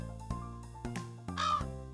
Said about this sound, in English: A crow came, ate this, busted.